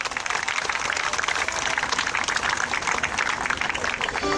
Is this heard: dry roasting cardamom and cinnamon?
no